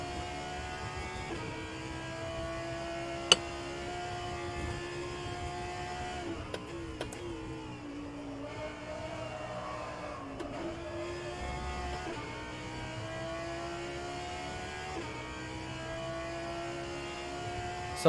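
Audi GT3 race car engine in the rFactor 2 racing game at the Nordschleife, a steady high whine with repeated gear shifts and revs rising and falling, running continuously with no voices.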